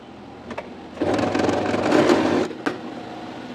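A sewing machine runs in a steady whirring burst for about a second and a half, stitching two fabric pieces together for a latkan flower design, framed by a few light handling clicks before and after.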